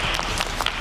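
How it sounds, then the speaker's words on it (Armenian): Audience applause sending off a departing contestant on an Armenian game show, a steady burst of clapping with a few sharper claps standing out over the brief stretch. "Ճանապարհ ենք ծափարություններով։"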